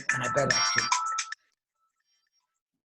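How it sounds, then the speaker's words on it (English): Mobile phone ringtone playing in a loud, bright, repeating melodic burst for just over a second before cutting off, with someone talking over it. "That's my phone ringing"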